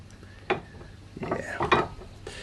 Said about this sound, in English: something that presses down on the leather as soon as I move the lever up